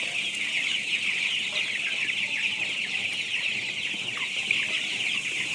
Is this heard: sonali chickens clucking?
yes